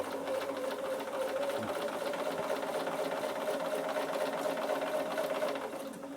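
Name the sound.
Bernina sewing machine stitching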